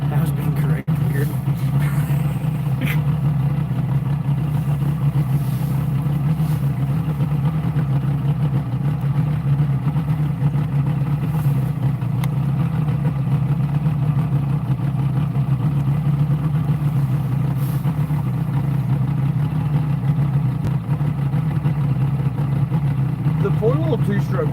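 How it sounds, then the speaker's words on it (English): A portable two-stroke engine runs steadily outdoors in cold weather on a fall fishing trip, a constant close droning hum that holds without change throughout. "The portable two-stroke smokes so much when it's cold outside."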